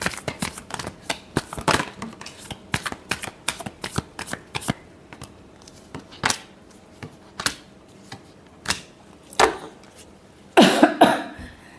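Tarot cards being shuffled by hand in a quiet room, a run of brisk papery riffles and slaps at close range, with a louder burst of shuffling near the end.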